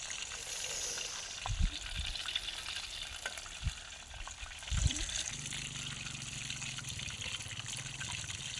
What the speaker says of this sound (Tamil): மீன் பொறிச்சிட்டு இருக்காரு